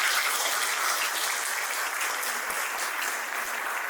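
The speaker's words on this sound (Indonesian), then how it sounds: "Boleh kita berikan tepuk tangan yang indah." Audience applause at a leadership talk event, a steady dense wash of clapping that stays loud and even from start to finish, with no talk over it.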